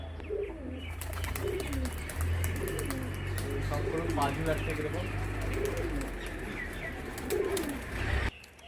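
A pair of racing pigeons, a chocolate-coloured hen and a steel-grey cock, give soft repeated coos and rolling calls close by while someone talks over them.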